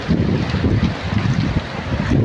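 Fast floodwater rushes loudly past, a dense continuous roar with gusty surges up close and wind buffeting the microphone, heard alone without talk.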